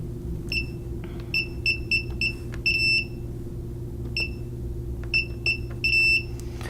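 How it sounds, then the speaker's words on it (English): A series of short, high electronic beeps from a security system as it learns a glass-break sensor, in irregular clusters, some single and some in quick runs of two or three, over a steady low hum. "as you heard that beep, the system learned the glass break right there"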